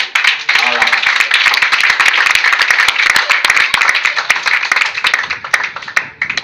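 A church congregation claps loudly and continuously to acclaim God, a dense, close patter of many hands with voices calling out beneath it.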